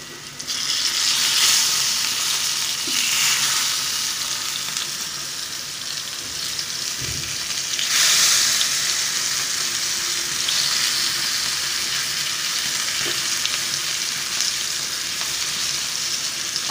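Sliced spiny gourd (kakrol) sizzles and crackles steadily in hot oil in a pan, with occasional soft knocks and stirring sounds over the continuous frying hiss.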